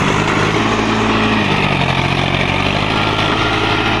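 A Sonalika Tiger DI 50 tractor runs during stunts, its engine a loud, steady idling drone close by that fills the whole stretch without speech.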